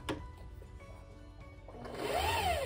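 A sewing machine left in bobbin winding mode hums faintly and then rises into a louder whirring motor run with a climbing and falling whine, close by, with no speech.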